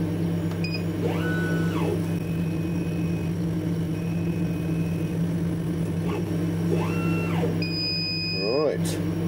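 A motorised steampunk gauge switched on and homing to its datum gives a few short rising and falling whirring motor sweeps and beeps over a steady electrical hum, while a person talks quietly.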